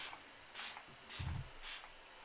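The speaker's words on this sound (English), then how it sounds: "I'm going to spray this." Illuminating skin mist sprayed from a makeup bottle in several short hissing bursts, about four puffs evenly spaced, close and fairly quiet.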